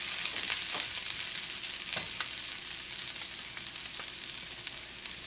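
Potatoes fry for home fries in a pan, producing a bright, steady hissing sizzle with scattered pops and a few soft stirring scrapes, close and continuous throughout.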